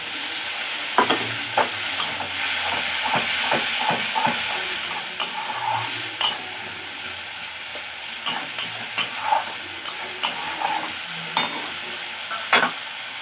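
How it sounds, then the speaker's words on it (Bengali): A spice paste (masala), loosened with a little water and salted, fried and stirred in a pan: a steady close sizzle broken by frequent sharp spoon scrapes and clicks against the pan in an uneven rhythm. "ভালো করে মশলাটা কষিয়ে নেব"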